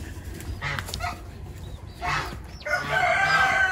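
Serama chickens kept in a heated brooder during an arctic freeze crow and cluck close by, with dog-like barking mixed into the busy, overlapping calls.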